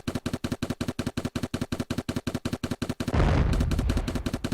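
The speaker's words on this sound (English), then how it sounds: "now we'll have decent sounds when they explode and when the turrets are firing" Turret gunfire sound effects from a Unity tower defense video game rattle out in a fast, regular burst of loud synthetic shots, then give way to a deeper explosive rumble that fades out.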